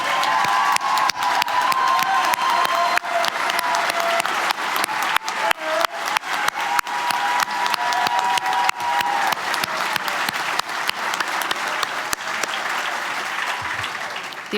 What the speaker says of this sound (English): Can I have some applause for Iris?